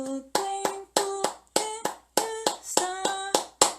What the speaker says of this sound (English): I'll sing the top part and clap the left hand part